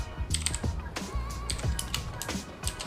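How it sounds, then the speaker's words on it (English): Clattering keystrokes on a loud computer keyboard, rapid irregular bursts of taps and key thuds sounding close and fairly loud, with no talk over them. "it's a loud keyboard"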